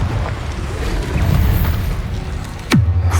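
A Confringo blasting spell bursts in Hogwarts Legacy with a rumbling boom that swells and fades, then a sharp whooshing sweep drops down into a low, sustained rumble near the end.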